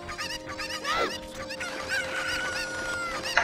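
Cuccos, the chickens of the video game Ocarina of Time, cluck and squawk repeatedly over continuous game sound, with a rising shriek in the middle and several close, sharp calls.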